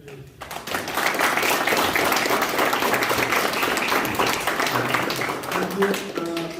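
Audience applause at the close of a panel speech, a dense, steady wash of clapping that rises quickly and holds at full strength for several seconds, with a few scattered voices mixed in.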